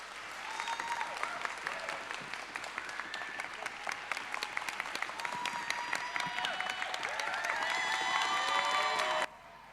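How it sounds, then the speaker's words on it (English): A crowd gives sustained applause for a speaker named Zineb, steady clapping lasting about nine seconds before stopping abruptly. "So please give a warm round of applause to Zineb."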